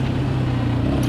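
A Yamaha Raptor 700R sport ATV idles with a steady, deep exhaust rumble, heard close and loud for about a second with no talking.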